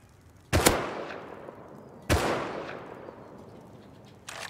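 Three sharp gunshots ring out in the Rust video game, two loud close blasts about a second and a half apart with long decaying tails, then a third starting at the end, with no talk over them.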